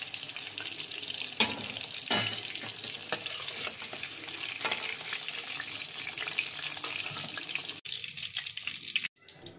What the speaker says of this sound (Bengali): আমার আলুগুলো মোটামুটি ভালো ভাজা হয়ে গেছে।